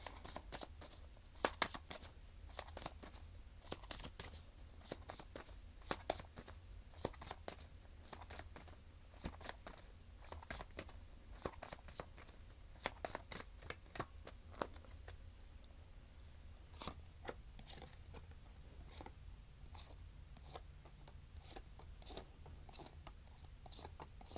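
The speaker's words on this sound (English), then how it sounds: "I'm going to go ahead and shuffle this deck" A tarot deck being shuffled up close, quiet crisp riffles and soft clicks in uneven bursts, with no one talking.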